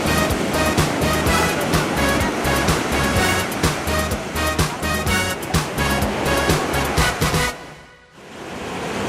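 Surf rolling onto Ipanema beach in Rio de Janeiro, a loud steady wash of breaking waves with rhythmic swells, dipping briefly near the end before surging back.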